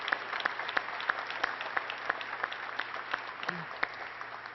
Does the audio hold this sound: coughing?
no